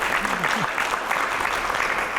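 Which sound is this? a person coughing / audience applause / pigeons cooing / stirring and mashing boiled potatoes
audience applause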